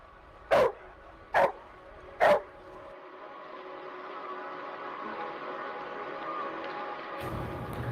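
A dog-reactive dog lets out three sharp, loud barks in quick succession, then falls quiet, leaving a low, steady background hum.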